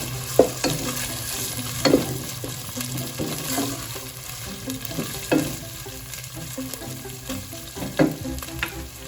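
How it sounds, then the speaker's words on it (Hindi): Chicken sizzling in a pan as filling for Chinese chicken samosas, with a steady close frying hiss and intermittent scraping clacks of a spoon stirring the pieces, and no talking. "चिकन को थोड़ा सा फ्राई करते हैं।"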